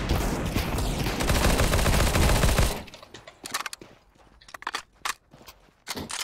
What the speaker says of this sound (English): And I heard an M4, an unsuppressed M4.